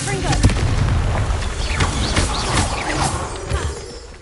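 A Confringo spell explodes in Hogwarts Legacy, a sharp nearby blast followed by rumbling, crackling aftermath and scattered smaller bangs that fade over a few seconds.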